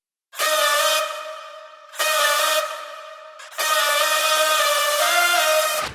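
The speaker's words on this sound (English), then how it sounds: "Layer a supersaw lead with your vocal chops pitched up, playing the same melody with saturation." A saturated supersaw synth lead layered with pitched-up vocal chops plays three sustained, bright buzzing chords, the first two short and the last one longer, loud and alone.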